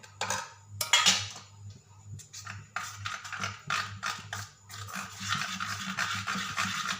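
A spoon scrapes and clinks around a bowl, stirring a cumin and mustard seed tempering into rice batter in uneven bursts, close and fairly quiet.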